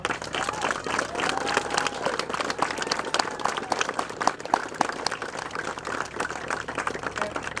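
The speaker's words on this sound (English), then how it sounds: "So let's give another round of applause." An outdoor crowd claps in a quick, crackling texture for World War II veterans at an Honor Flight event with a B-25 bomber in Morehead, Kentucky; the applause is moderately loud and continuous throughout.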